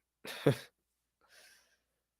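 A single short, sharp cough followed by a softer, breathy exhale after a pause, close and otherwise quiet.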